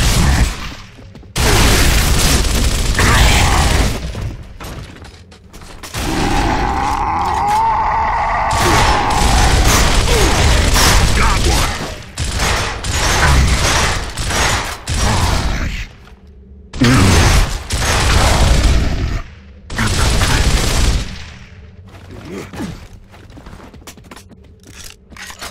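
Gunfire and booming propane-tank explosions in Gears of War, loud blasts and rumbling bursts separated by brief gaps, with scraping mechanical clatter in between and little talk.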